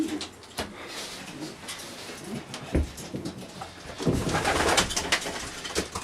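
Pet pigeons cooing softly in a loft, low murmuring coos with scattered wing flutters and shuffling, close and moderately quiet, building slightly louder toward the end.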